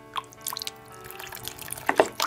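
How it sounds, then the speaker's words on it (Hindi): Water drips and trickles into a pot of potatoes while a Pakistani-style potato korma curry cooks, a few soft splashes building to a brief, louder pour near the end, with no talking. "पानी शामिल कर लूँगी आलुओं को गलने के लिए।"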